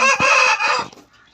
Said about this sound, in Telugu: ఇదేం కోడి అది కాకినేమలి ఇది కూడా కాకినేమలి